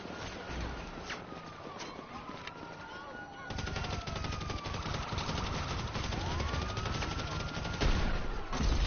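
Rapid automatic gunfire from a modded gun in an online video game, sustained bursts over a siren wail, with a voice talking over parts of it.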